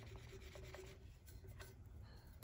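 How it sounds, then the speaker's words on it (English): Sanding block rubbing over a cured epoxy glitter tumbler, a steady close, low-level rasping scrape with short repeated strokes, no talking. "Just going to sand it nice and smooth."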